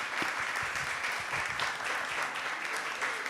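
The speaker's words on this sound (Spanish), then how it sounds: "Un aplauso para..." Audience applause after a museum panel discussion, a steady, dense wash of clapping heard from the crowd for a few seconds with no voices over it.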